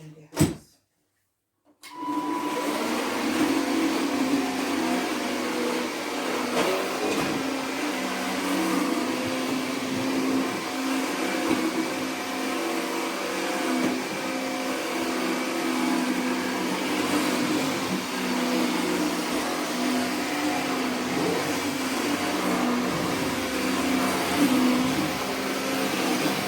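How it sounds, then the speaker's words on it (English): A vacuum cleaner hoovering a house starts with a brief click and then runs as a steady loud whirring drone for the rest of the time, unchanging and close. "So it's time to hoover now."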